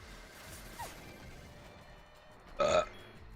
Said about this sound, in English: Alright, that was just a burp.